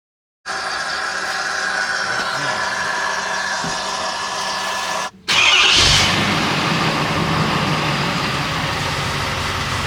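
A tuned 2017-2024 Ford F-250 6.7 Powerstroke diesel engine, emissions intact, cranks after a fuel filter change, catches and roars to life with a brief rev, then settles into a steady, loud, rumbling idle close by.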